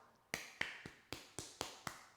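Hands pounding on a foot during a foot massage, seven quick, dull thumps at a steady rhythm, close but quiet, each with a brief decay.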